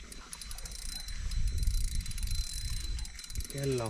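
A fishing reel's ratchet clicks in rapid, steady bursts while lures are cast for perch on the water, the mechanical clicking close and continuous.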